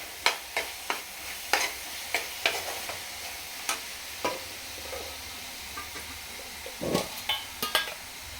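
A spatula stirs coconut halwa with ghee in a pan, giving a close series of rhythmic scraping knocks against the metal over a low, steady sizzle, with the strokes bunching near the end.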